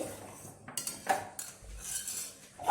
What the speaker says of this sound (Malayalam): നമ്മളതിൻ്റെ ഒരു പാത്രത്തിലേക്ക് കറി ഒഴിച്ചു കൊടുക്കാൻ പോവാണ്